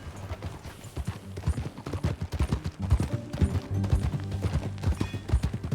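Rhythmic hoofbeats of a galloping horse in Red Dead Redemption 2, steady and close, with a low musical drone underneath.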